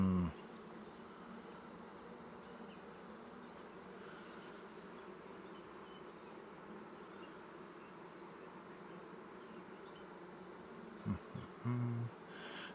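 Honey bees buzz steadily throughout a hive inspection, a dense continuous drone from many bees close by, with a couple of brief low bumps near the end.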